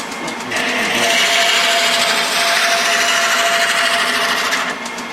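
A wood lathe turns a long thin wooden spindle during a light cutting pass, giving a steady loud whirring hiss of the tool on the wood that holds evenly for several seconds.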